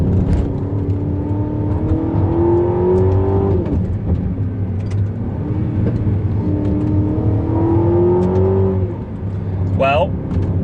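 Aston Martin DBX SUV pulling away in second gear, its engine rising steadily in pitch through two long acceleration pulls with a brief dip between them, heard from inside the cabin under a steady road rumble, with a voice speaking over it.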